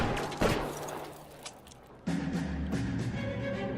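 Gunfire in the video game L.A. Noire: a few sharp shots early on, then a louder burst of firing around the midpoint, with game ambience and a steady tone behind it.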